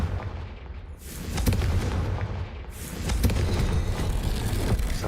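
A Confringo blasting spell explodes in Hogwarts Legacy, a sustained loud roar of booming, crackling blasts that swells after a moment and stays dense and rumbling to the end.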